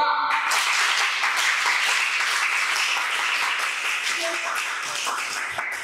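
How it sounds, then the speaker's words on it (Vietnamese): A class of MC trainees in a Ho Chi Minh City youth cultural house claps for themselves, with loud, continuous applause filling the room and slowly tapering off. "Bây giờ cho các bạn tự vỗ tay cho các bạn đi."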